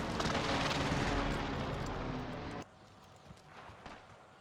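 Rapid gunfire rattles in a shooter video game, a dense loud burst of overlapping shots for about two and a half seconds, then cutting to quieter scattered pops and faint background noise.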